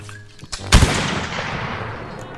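A rifle shot rings out loud and close in the Roblox game Blood and Iron, with a sharp crack and a long echoing decay, preceded by a few fainter distant shots.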